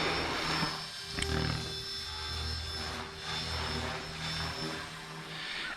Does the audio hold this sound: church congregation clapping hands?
no